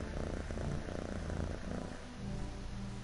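A cat purrs in the video game Echoes of the Fey, a low, steady rumbling purr that is soft and close, continuing for a few seconds.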